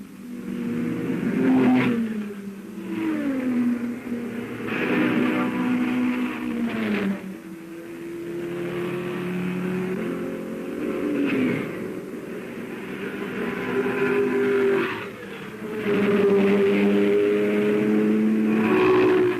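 Race cars at the 1968 24 Hours of Le Mans, engines roaring and revving as they approach and pass one after another, pitches rising and falling, loud and close, with crowd ambience beneath.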